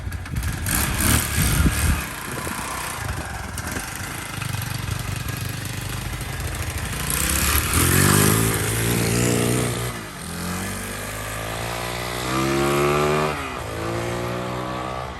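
A 1974 Honda Z50 Monkey Bike fitted with a 140cc motor runs close by, its small single-cylinder engine chugging loud and continuous, with a few revs rising and falling through the middle.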